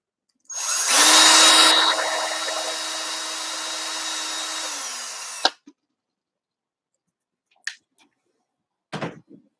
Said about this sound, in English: The drill seemed to work.